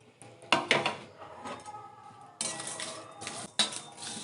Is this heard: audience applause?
no